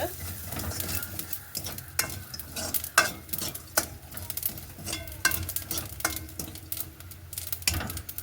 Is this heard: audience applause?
no